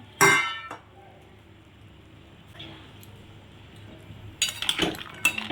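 A utensil stirs soybeans in a pot of hot water, with loud metallic clinks and scrapes against the pot at the start, a quieter stretch, then another burst of rapid clanking near the end.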